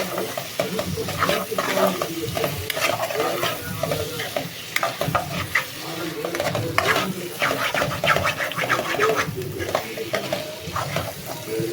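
Clam meat from mussel-type shellfish, already boiled open, sizzles and is stirred in a pan for a curry, with steady frying crackle and scraping of the spoon throughout, close and continuous.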